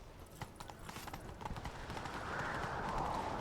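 Hooves clatter in a quick rhythmic clip-clop as a horse gallops in The Witcher 3: Wild Hunt, with a rushing background building up.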